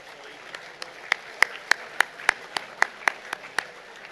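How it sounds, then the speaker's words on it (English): A small group at a school assembly gives a round of applause, a sparse string of distinct individual claps, about a dozen sharp hits, fairly close over a quiet hall. "can we give a round of applause,"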